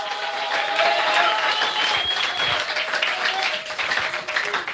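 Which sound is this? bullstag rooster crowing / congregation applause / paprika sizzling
congregation applause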